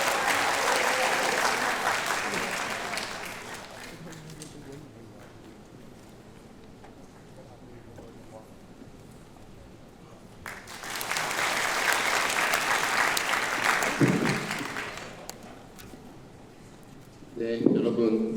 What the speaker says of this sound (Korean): 박수를 맞아주십시오